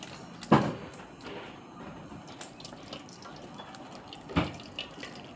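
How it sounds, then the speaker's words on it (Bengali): Cold water is poured into strained cucumber peel paste. Two brief splashing pours, one early and one near the end, sit over a faint, quiet background. "আর তার মধ্যে কিছু ঠান্ডা জলও দিয়ে তুইব"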